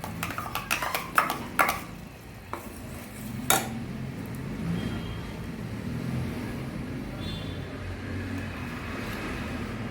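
Almond barfi mixture stirred in a pan over a low flame: a cluster of close metallic spoon knocks and scrapes at first, then a soft steady background hum with occasional faint clinks.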